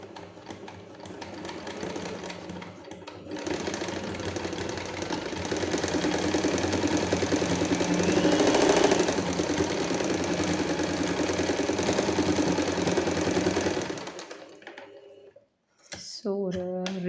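A sewing machine stitches summer cotton pants in one continuous whirring run of about ten seconds, close and fairly loud, then stops, and a brief voice follows at the end.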